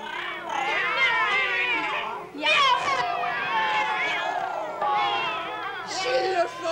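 Wild cats meow and caterwaul in long, wavering, strained yowls, several voices overlapping in bursts, loud and close, with a brief pause midway and a fresh shrill outburst near the end.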